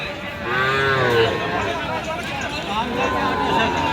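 A cow moos loudly and repeatedly at the Chaubaria cattle market, its long drawn calls ringing out over steady crowd noise and nearby talking.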